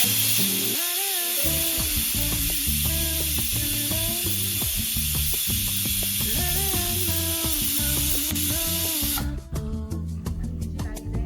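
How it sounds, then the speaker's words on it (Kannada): A pressure cooker whistles loudly at close range while dinner cooks at home, a steady hissing steam jet with a rising tonal whistle that cuts off abruptly near the end. "ನೋಡಿ ಇದು ವಿಷಲ್ ನೋಡಿ"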